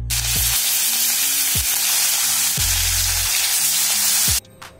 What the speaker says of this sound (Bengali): বাকিগুলো একইভাবে ফ্রাই করে নিচ্ছি।